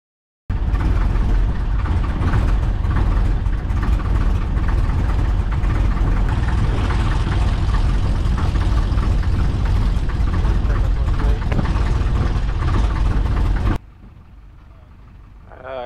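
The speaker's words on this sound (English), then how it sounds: "Bring it up to 1500 RPM, check mags, carb." A small airplane engine running up to 1500 RPM at Aeroflex-Andover airport in New Jersey, a loud steady droning roar held for about thirteen seconds before cutting down abruptly to a much quieter level.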